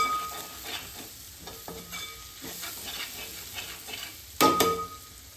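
Chicken curry spice powders (garam masala, fennel, coriander, chilli and pepper powders) frying and being stirred in a pan, a steady close sizzle with scraping strokes and a louder burst near the end.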